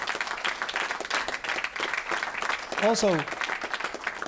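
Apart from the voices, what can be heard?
audience applause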